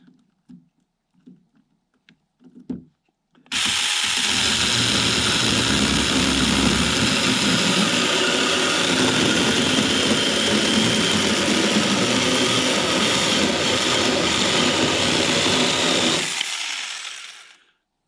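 A Saker cordless mini chainsaw bites through a thick hardwood branch, a loud, steady buzzing cut held for about thirteen seconds after a few faint knocks, then winding down as the chain stops.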